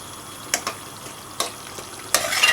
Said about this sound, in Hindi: ऐड करने के बाद आप अब इसको अच्छी तरह मिक्स कर लें